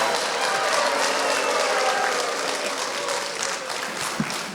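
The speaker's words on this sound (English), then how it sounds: "Your clapping slows that down." An audience at a public planning meeting about Highland Gate claps in a sustained, dense burst of applause that gradually tapers off, heard up close in a large room.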